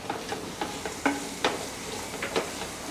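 Cumin and coriander powder with Kashmiri red chili being stirred in a pan: a few soft scrapes and taps of a utensil over a low sizzle, close and quiet, with no voices.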